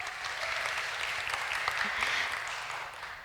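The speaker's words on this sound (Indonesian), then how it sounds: "Boleh beri tepuk tangan untuk kita semua?" Audience at an indoor event gives a sustained round of applause, a dense wash of clapping from many hands held at an even, moderate level for a few seconds.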